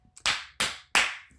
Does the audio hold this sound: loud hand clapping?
yes